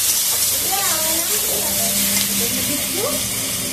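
Chicken meat sizzles and fries in a pan while being stirred for a light Bengali chicken curry, a constant crackling hiss with a voice faintly talking underneath.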